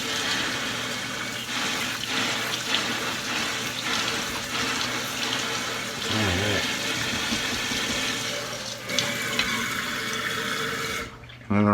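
Seeds are scrubbed by hand under a steadily running tap, water splashing continuously into a sink with small rubbing and clattering bits, close and fairly loud, ending abruptly.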